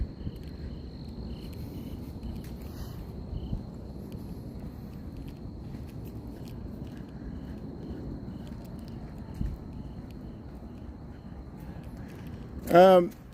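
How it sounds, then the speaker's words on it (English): Faint, steady crickets chirping in the background of a quiet outdoor night on a Chicago street, with a brief louder rustle near the end. "You hear the crickets."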